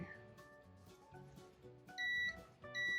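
A continuity tester beeps in sharp, steady tones while checking a USB 3.0 port circuit board of a QHY183c astronomy camera, a couple of loud bursts separated by a short pause, close and clear.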